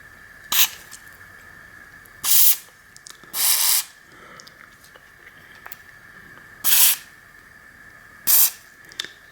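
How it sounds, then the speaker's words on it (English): Five short bursts of Tri-Flow aerosol lubricant sprayed onto a mountain bike's rear derailleur pivot points, each a crisp close hiss lasting under a second, separated by quiet pauses with a faint steady tone underneath. "And then just spray in a little bit at each pivot point."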